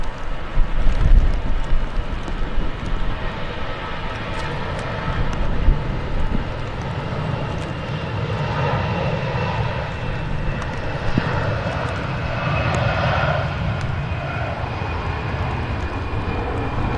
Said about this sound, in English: EasyJet about to depart.